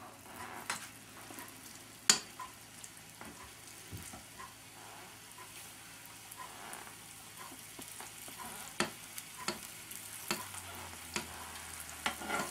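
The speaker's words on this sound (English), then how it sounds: "you can start to cook them on the griddle" Sugared sweet bread cooking on an oiled griddle at medium heat: a faint, steady sizzle with occasional soft clicks and taps of placement, quiet and close with no talk.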